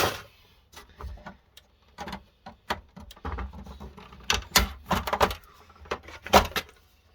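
Plastic clunks and scraping clicks as the paper drawer is worked free from a laser printer being scrapped, a string of close, irregular knocks and rattles separated by short quiet gaps.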